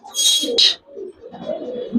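Old-breed Giribaz pigeons in a loft coo in a low, rolling call after a sharp higher burst, close by, with someone speaking intermittently nearby.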